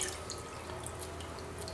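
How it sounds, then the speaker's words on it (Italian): Water runs and splashes over a Sony Xperia Tablet Z during a waterproof rinse, a steady wash of hissing, dripping liquid with no pauses, close and moderately loud. "Adesso gli diamo una bella sciacquatina."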